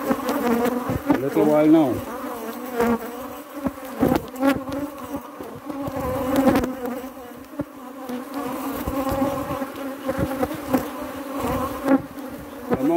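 A dense, steady buzz of many honeybees in a hive colony close by, with a person speaking briefly over the droning hum.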